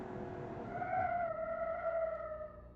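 A rear-wheel-drive car from the game Automation drives with a steady engine tone that rises slightly and then holds. It sounds fairly faint and continuous, with a light skid-like texture and no talking.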